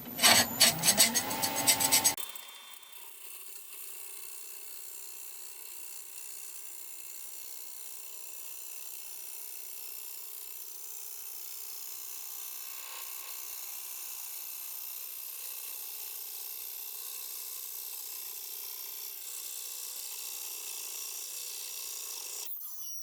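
Woodturning gouge cutting a bowl blank spinning on a lathe: a brief loud rough scraping burst, then a long steady hiss and rasp of the tool riding the wood, continuous and even.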